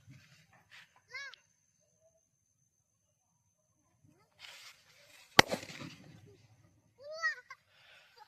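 A Diwali firecracker goes off beneath a box set on top of it, one sharp loud bang after a quiet stretch, with children's voices calling before and after the blast.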